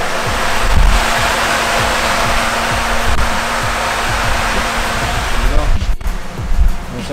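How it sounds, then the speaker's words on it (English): A pair of Mishimoto race line radiator fans on a car roar with a loud, steady broadband whoosh close to the listener, with someone speaking over the constant rush. "Those are Mishimoto race line fans."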